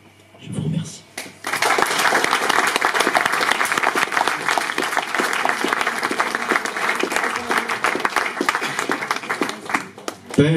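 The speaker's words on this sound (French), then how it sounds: "on applaudit notre jeune animateur" Sustained applause from an audience at a French evening event, a dense, loud wash of clapping that starts after a brief pause and continues steadily for about nine seconds, swelling again at the very end.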